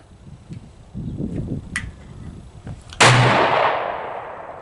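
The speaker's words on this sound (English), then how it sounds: "My dad's shooting his Smith & Wesson 629 next to me. So he got 244s going off." A .44 Magnum Desert Eagle fires a single loud, sharp blast with a long ringing decay, following a stretch of fainter distant pops and clatter at an outdoor shooting range.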